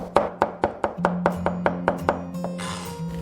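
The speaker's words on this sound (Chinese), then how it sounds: "切成蒜末。" Garlic cloves, smashed first, being minced with a kitchen knife on a cutting board: a steady run of about a dozen crisp, evenly spaced chops, close and clear, with a low hum in the background.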